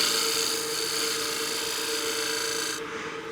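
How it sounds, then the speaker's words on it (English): A shear scraper rasps steadily across a spinning wooden utility box on a wood lathe, a continuous close hissing scrape over the lathe's hum that cuts off abruptly near the end. "So I'll shear scrape that."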